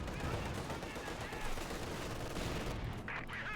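Machine gun fire rakes a field gun crew in the World War II strategy game Company of Heroes 2, a dense continuous rattle of shots buried in a thick, noisy battlefield mix.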